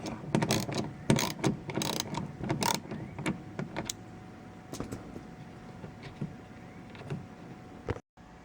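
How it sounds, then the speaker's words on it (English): A ratchet backs an 8mm bolt out of a Ford Fusion door, with quick clicking bursts that come close together at first and then thin to a few sparse ticks and faint handling noise. "there is an 8mm bolt here. Needs to come off."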